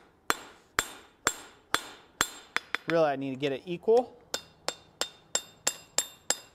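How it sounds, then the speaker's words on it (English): Sharp metallic hammer strikes on hot steel ring out in an even rhythm, about two per second, while forging box jaw tong blanks, briefly interrupted by someone speaking before the blows resume. "I'll go ahead and hammer this up again"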